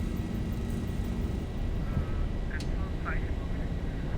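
Boeing 737 (Zibo mod) in a flight simulator rolling down the runway for takeoff, a steady broadband engine roar that stays constant and loud throughout, with voices talking faintly over it.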